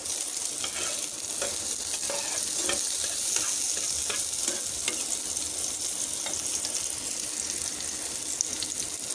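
Onions frying in oil in a pan, the first step of a small-fish and jackfruit-seed curry, give a steady close sizzle with light stirring clicks throughout, and no one speaks.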